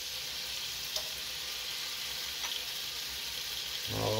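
Lemon juice sizzles steadily in a shrimp scampi pan on a burner, a continuous close hiss with a couple of faint clinks and a brief low thump near the end.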